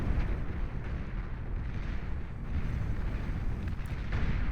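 Dense battle noise from an EMP strafing beam attack in the Beyond All Reason strategy game, a continuous rumbling roar of blasts and crackling energy, loud and unbroken with no clear gaps, no speech.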